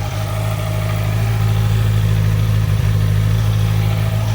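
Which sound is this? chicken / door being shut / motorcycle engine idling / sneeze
motorcycle engine idling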